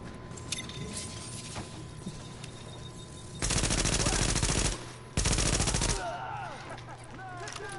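Two loud, sustained bursts of automatic gunfire from The Division beta, each roughly a second long and separated by a short gap, over a constant game background hum.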